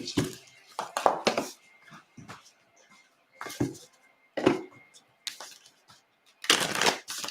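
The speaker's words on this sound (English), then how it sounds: "I'm just going to do some more shuffling" Tarot cards being shuffled up close in short, crisp bursts of riffling and slapping, separated by quiet pauses.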